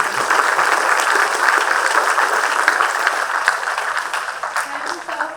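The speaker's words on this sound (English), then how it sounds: "have a huge round of applause for each and every one." An audience at an entrepreneurship session applauds in a dense, continuous wash of clapping that holds steady and then thins slightly toward the end.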